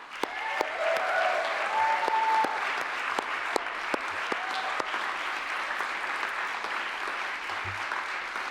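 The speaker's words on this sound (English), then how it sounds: "And may I offer a round of applause for our fearless leader, David Bale." Steady audience applause rolls through an awards presentation, dense continuous clapping with a few sharper individual claps standing out, a faint voice or cheer briefly audible near the start.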